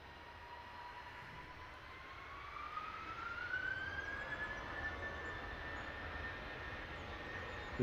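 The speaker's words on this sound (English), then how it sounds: "The corporate jet number 2 to depart will be off to Malaga, the Gulfstream 650." Gulfstream 650 corporate jet departing London Luton Airport, a steady distant jet roar with a rising whine that swells slightly midway and holds, heard alone outdoors.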